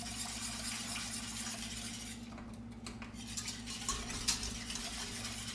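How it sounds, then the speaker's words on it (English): A utensil stirs and whisks seasoning into water in a pot on a stovetop, producing soft scraping and occasional light clinks over a steady low hum. "We're gonna whisk it in there so that it breaks apart all the little clumps."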